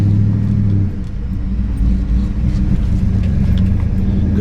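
A 1964 Ford Galaxie 500 with a 427 engine and 4-speed runs steadily, a loud, close, deep rumbling idle with slight shifts in pitch and no talk over it.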